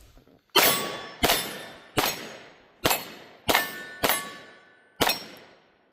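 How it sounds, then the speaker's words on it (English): Seven sharp, loud reports from a Springfield Hellcat Pro pistol, fired in quick succession at about half-second to one-second intervals while moving between targets, each with a short ringing decay and no talk. "let's shoot this Hellcat Pro and see how that one performs, moving quickly from target to target"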